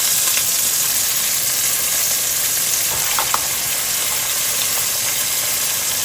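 Spices sizzle steadily in hot oil in a pan for a hilsa and taro curry, a constant loud hiss with a few faint clinks of stirring and no talking.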